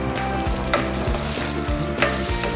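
Onion frying in a pan on an induction cooker, a steady close sizzle with stirring scrapes and a few sharper crackles, no talking.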